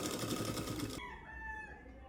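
A sewing machine stitches a Punjabi dress neckline in a short rapid burst of about a second and then stops, leaving a few faint whistling tones.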